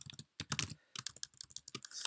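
Rapid clicking on a computer keyboard as a password is entered during an Ubuntu 15.04 desktop setup, quick close keystrokes in two short bursts separated by a brief pause.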